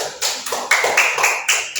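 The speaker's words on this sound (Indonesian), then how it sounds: "beri tepuk tangan untuk Mbak Sania" A classroom audience gives a student a short round of applause: about eight sharp, separate claps land one after another, close and fairly loud, with no talking over them.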